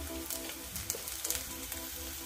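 Ground spices, red chilli, coriander and cumin powder, frying in a pan, a close, steady crackling sizzle with small scraping taps from stirring and no talking.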